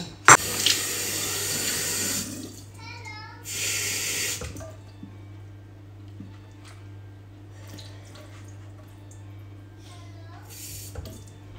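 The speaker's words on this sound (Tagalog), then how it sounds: "Nagyan ko lang siya ng kaunting tubig para hindi masunog." Water splashes into a cooking pan in two short bursts, the second lasting about a second, with a low steady hum underneath and a voice briefly audible.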